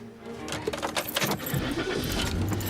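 A bunch of car keys jangles in a few quick metallic rattles close by, followed by a car engine turning over and idling.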